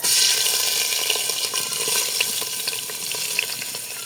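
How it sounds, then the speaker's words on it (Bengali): Washed, drained rice sizzling and frying in hot oil in a pot for pilau with peas and carrots, a bright continuous crackle with stirring scrapes and small clinks, close and steady. "কড়াই পাতিলে তেল দিয়ে দিছি, গরম হয়ে গেছে। আর এখন এই যে চাল দিয়ে দিব।"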